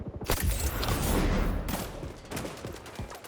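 Rapid gunfire in the online shooter XDefiant, a dense stream of shots from a player's weapon running almost continuously, loud and close, with a few sharper bursts near the end.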